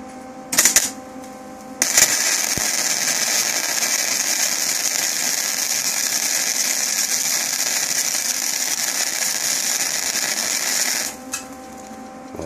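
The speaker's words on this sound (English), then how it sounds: "Now this is being tack welded on, just to quickly hold it there so that we can weld it all the way around" Harsh continuous crackle of tack welding a steel bracket for a 7-inch LED roof light, one long sustained buzzing arc of about nine seconds after a couple of brief starts, loud and close.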